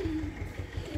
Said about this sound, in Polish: Gołębie siadły tam. Białe, pocztowe.